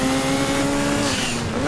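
A car in Gran Turismo 2 sliding on the handbrake on the Pikes Peak hill climb, a steady, loud engine drone with a whining tone throughout the brief moment.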